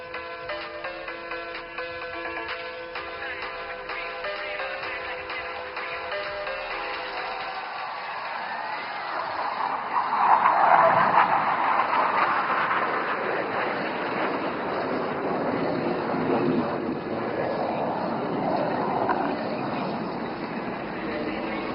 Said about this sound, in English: you will see 5 aircraft flying in formation and coming in from your right